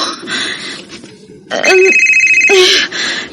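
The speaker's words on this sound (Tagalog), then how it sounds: "Yun na, ang akong cellphone maron." A cellphone rings with loud electronic tone bursts in two close repeated rings, preceded by brief quiet room sound.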